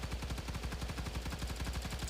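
Rapid automatic fire from a standard assault rifle in a video game, a steady burst of evenly spaced shots running continuously at close range with no pauses.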